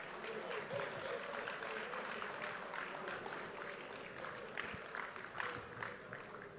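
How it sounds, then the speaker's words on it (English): Applause from an audience saluting service award recipients at a 2023 service awards ceremony, a steady, moderately distant patter of many hands that holds evenly throughout without breaks. "Please join me in giving a round of applause to salute all of our award recipients."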